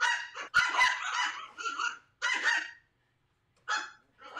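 An Alaskan Klee Kai puppy barking indoors, a string of high, yappy barks and yips in bursts with short silent gaps between them, close and fairly loud.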